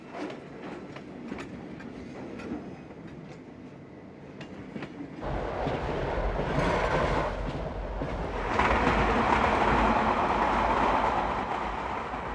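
A train runs along a railway track, its rolling rumble and wheel clatter steady and fairly close, rising louder partway through with no voices.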